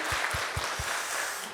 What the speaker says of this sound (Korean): 오늘 그런 마음으로 더 큰 영광의 박수 올려드립시다.